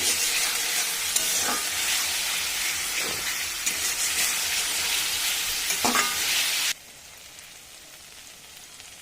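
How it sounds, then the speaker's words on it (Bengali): Meat masala spices sizzle loudly in hot oil while being stirred, a steady close frying hiss with soft scraping strokes that cuts off abruptly to a quiet background. "ভালো করে সব কিছু একসাথে কষিয়ে নেবো।"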